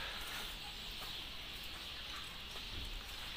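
Chickens and roosters cluck faintly in a Turkish backyard with fruit trees, a few soft calls over a steady hiss of outdoor background noise.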